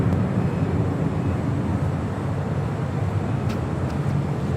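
United Airlines flight 1552 at LAX gives a steady, broad jet roar that holds at a constant loud level throughout, with no talk.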